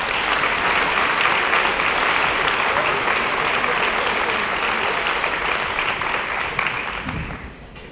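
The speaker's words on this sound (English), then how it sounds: "Give her a round of applause." Audience applause at a high school awards program: a dense, sustained wash of clapping from a large crowd that holds steady and then tapers off toward the end.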